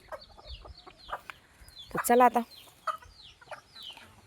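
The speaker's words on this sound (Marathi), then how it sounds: "ह्या गावठी कोंबड्या आहेत ह्या सगळ्या." Free-range village hens and roosters on a farm cluck in short bursts, with one louder squawking cluster in the middle, while someone speaks briefly nearby.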